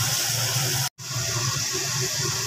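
Water pours into a pan of frying fish curry with a steady, close rushing hiss, broken by a brief cut near the middle.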